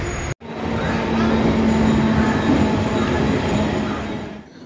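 A Mumbai local train rumbles along steadily with a droning hum and rushing noise, close and loud, then fades slightly at the end.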